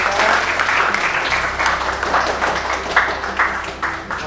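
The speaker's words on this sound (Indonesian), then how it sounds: "beri tepuk tangan buat teman kita" A group breaks into sustained, dense applause during a classroom teaching practice session, the clapping steady and close, rising and falling slightly over several seconds with no talking.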